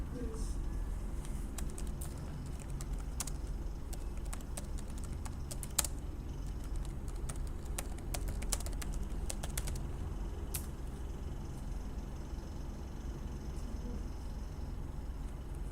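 Scattered key presses on a computer keyboard while a search query is typed, irregular light clicks over a steady low room hum, with faint background sounds in between.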